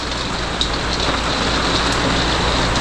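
Heavy rain patters steadily on a pop-up tent camper, close and loud, with a few distinct drops popping out of the constant wash of sound.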